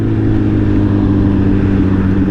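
Suzuki Hayabusa sport bike ridden on a winter road, its engine producing a steady, loud, continuous drone with low rumbling tones throughout, close up and without any talk.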